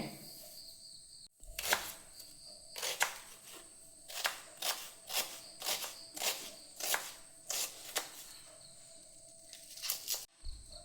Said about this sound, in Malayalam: അപ്പം ഞാൻ വേഗതൊന്ന് അരിഞ്ഞെടുക്കട്ടെ